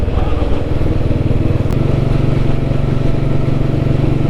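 A vintage Royal Enfield Bullet motorcycle runs steadily at about 60 km/h, its thumping single-cylinder engine loud and close throughout with wind rush, no one talking.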